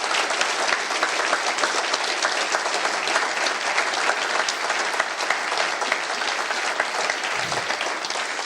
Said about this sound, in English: can you please give a round of applause to the team around here?